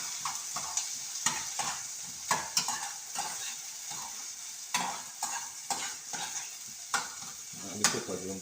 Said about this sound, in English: I'm gonna put in my season to go and fry up